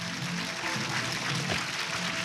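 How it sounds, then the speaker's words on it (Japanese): Continuous crowd applause fills a cinema stage greeting for the film Pure Japanese as the cast walk out, a thick, level patter of many hands with no individual claps standing out. "拍手でお迎えください"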